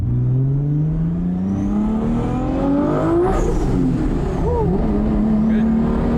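A 1200 HP Toyota Supra with a 3.2L Dart 2JZ engine accelerates hard, its loud exhaust note climbing steadily in pitch before a shift and rising again, heard close throughout the clip.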